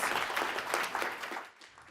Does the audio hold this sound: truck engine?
no